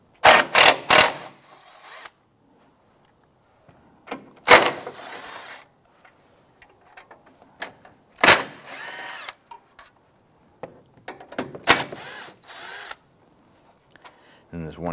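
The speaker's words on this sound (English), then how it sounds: "Use a 13mm socket and extension to remove the bolt for the battery tray." Ratchet with a 13mm socket and extension turning out the battery tray bolt on a 2008-2013 Nissan Rogue, heard as short bursts of clicking spread through a quiet stretch with pauses between.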